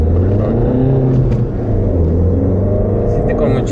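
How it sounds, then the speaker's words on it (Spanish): A 2-litre turbodiesel engine in a 2015 Peugeot 308 accelerates hard in Sport mode on roads around Paris, giving a loud, steady, deep rumble that holds throughout with little change in level. "este motor de 2 litros turbodiesel, la verdad es que anda durísimo y con el modo Sport"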